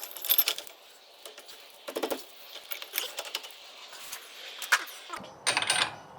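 Light metallic taps and small clinks while working on the rear brake of a BMW E46, a few quick close knocks in irregular clusters over a quiet background.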